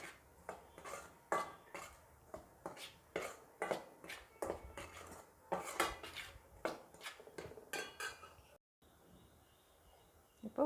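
Dry wheat flour being mixed with grated nuts, dry ginger and salt in a bowl, heard as a steady run of close scraping, clinking strokes against the bowl with a brief pause near the end.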